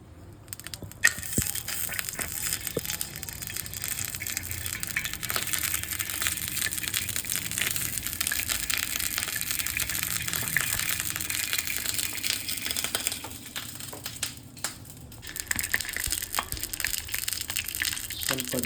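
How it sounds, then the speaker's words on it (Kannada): Crushed garlic dropped into hot oil in a small bowl for a tempering, a steady bright sizzle running continuously and fairly loud from the first second, with a few soft clinks near the start and a brief dip near the end. "ಸೊ ಅದಕ್ಕೆ ಇವಾಗ ಫಸ್ಟ್ ನಾವು ಜಜ್ಜಿರೋ ಬೆಳ್ಳುಳ್ಳಿ ಹಾಕ್ಬಿಡೋಣ"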